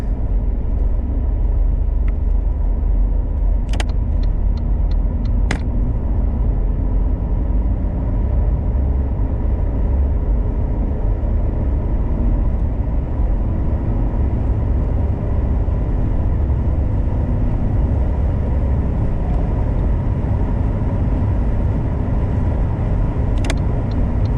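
A turbocharged Saab 9-3 accelerates onto a highway, a steady engine drone and road roar heard from inside the cabin, with a few faint clicks early on.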